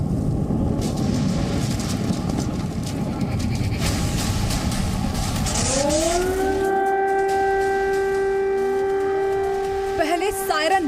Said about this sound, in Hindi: पहले सायरन बजा,